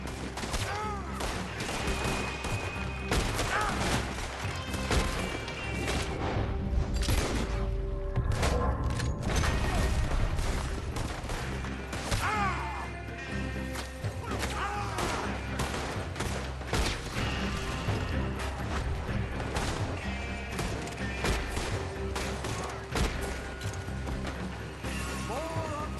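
Sustained gunfire in the Western video game Red Dead Redemption 2 during a shootout near an oil wagon: dense volleys of shots with mechanical clacks and creaks, loud and continuous throughout, with no speech over it.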